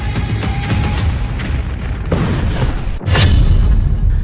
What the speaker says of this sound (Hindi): इजराइल के धमाकों को देख डर गए ट्रंप।